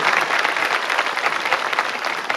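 A crowd at a high school senior convocation claps steadily, with dense, even applause filling the space throughout.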